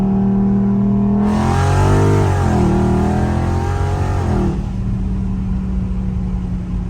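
A Dodge Charger Scat Pack accelerating up to 40 mph, its engine note climbing loudly in pitch, dipping briefly at a gear change, then settling into a steady hum as it cruises on.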